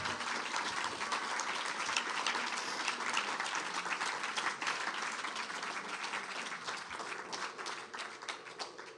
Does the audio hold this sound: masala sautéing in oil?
no